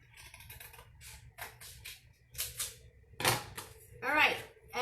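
Scissors cut a piece of cardstock in half with a series of short, crisp snips and clicks, spaced irregularly, while a person talks in between.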